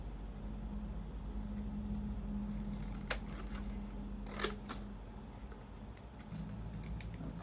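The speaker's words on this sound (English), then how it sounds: "I'm going to go ahead and cut this as well." Scissors cutting packaging on a baby gift basket with a Cookie Monster rattle: a few crisp snips and rustles, close and fairly quiet over steady low background hum.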